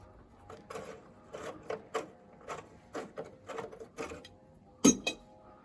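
A ratchet turns bracket bolts on a Subaru Forester 2.0 diesel front suspension, giving a steady run of close, regular clicking strokes that ends in a sharper metallic clink.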